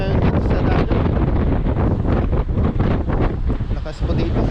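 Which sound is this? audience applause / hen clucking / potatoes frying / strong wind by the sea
strong wind by the sea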